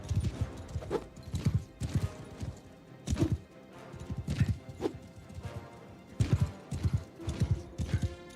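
Horse hooves clip-clop at a gallop in a medieval video game, mounted knights on horseback, with a repeated loud rhythmic thudding and an occasional neigh in the mix.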